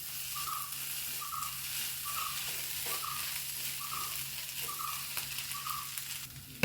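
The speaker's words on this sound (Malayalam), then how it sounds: "നല്ലോണം ഒന്ന് ഇളക്കട്ടെ." Fish fries in a pan while being stirred, a steady close sizzle with a regular series of soft scraping strokes repeating about every second, no talk.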